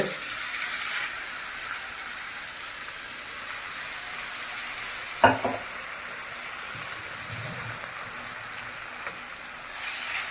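Chicken frying in a pan gives a steady, moderate hiss and crackle throughout, with one brief clatter near the middle.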